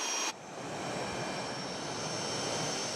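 An F-117 stealth aircraft in flight, a continuous broad engine roar that starts abruptly and holds steady at moderate loudness, with no talking.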